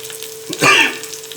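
Ginger garlic paste hits hot oil with mint in a pan while prawn biryani is being made, giving a sudden loud sizzle that swells and then fades back to a soft, steady frying hiss.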